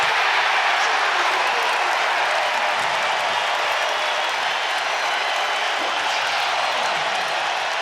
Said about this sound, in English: you wouldn't know it listening to this crowd